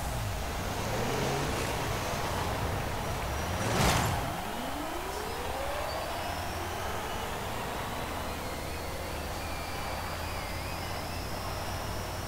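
A 2022 Rivian R1S electric SUV drives in Forza Horizon 5 with a whirring electric motor whine that rises and falls in pitch. It passes one loud whoosh midway and goes on with a steady hum and tire noise.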